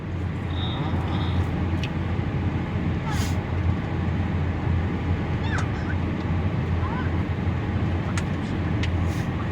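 A long, steady low rumble of a passing Canadian Pacific freight train on the BNSF Staples Subdivision, continuous and fairly distant, with faint squeals and clanks over the drone.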